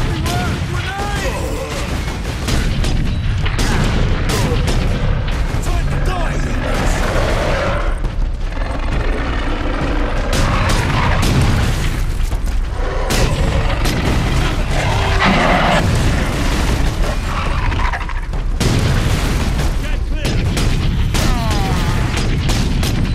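Repeated heavy booms and blasts of grenade explosions amid gunfire in the Warhammer 40K Space Marine video game, dense and continuous battle noise with sharp bursts throughout.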